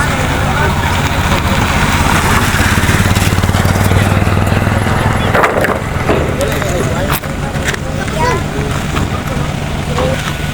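A motorcycle engine runs steadily as a low, rough hum at a community house-building work site, close by and continuous beneath several people chatting.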